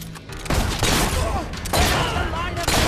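Gunfire in the Fable 3 video game, loud bursts of volleyed shots in two main waves with voices talking amid the firing.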